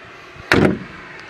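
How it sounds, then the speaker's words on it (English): The door of a 1936 Ford Slant Back resto-mod, all-steel body, shuts with a single solid thump, close and clear, with a quiet room tone before and after. "I need to pull this seat back so I can shut the door."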